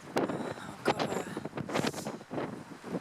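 Strong gusts of wind buffet the microphone at a ruined castle tower, a continuous rough roar with fluttering surges and rustling, close and loud throughout.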